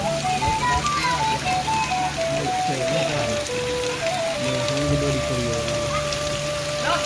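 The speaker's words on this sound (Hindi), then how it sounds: "मूसलाधार ही हो रही है, अभी तक रुकने का कोई नामो निशान नहीं है" Steady heavy monsoon-style downpour over a village pours throughout with a constant hiss, while a tinkling electronic melody plays over it.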